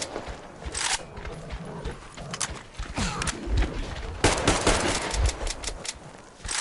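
Gunfire from an unreliable, repeatedly jamming gun in Metro Exodus: a few scattered loud shots and thuds with irregular gaps between bursts, plus movement and footsteps in between.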